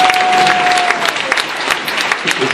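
A church congregation in Guadeloupe applauds loudly and steadily, dense clapping filling the whole stretch, with a brief sustained tone heard early on and faint voices mixed in.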